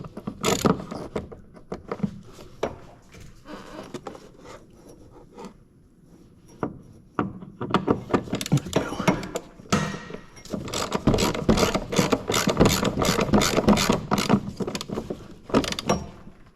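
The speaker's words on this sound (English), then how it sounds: "I'm going to use a ratchet wrench and do it by hand" Ratchet wrench turned by hand on the rear shock absorber bolts of a 2011 Ford Fiesta: after a few scattered clicks, a long run of rapid, close ratcheting clicks builds up and continues steadily to the end, with no voices.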